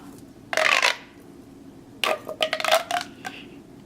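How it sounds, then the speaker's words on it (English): A plastic pop tube sensory toy being stretched and compressed, giving two bursts of ribbed, rattling pops and clicks, one short and one longer and choppier, close up with no talk. "The first tool in your sensory toolkit is a pop tube."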